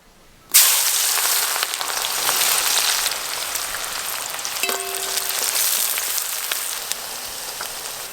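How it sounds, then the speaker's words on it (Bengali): Onions hit hot oil for chicken biryani with a sudden loud burst of sizzling, then a dense, steady crackling fry with scattered pops and a brief clink of a utensil midway. "তেল ভালো করে গরম হয়ে গেছে, পেঁয়াজগুলো আমি গোল্ডেন ব্রাউন কালার করে ভেজে নেব"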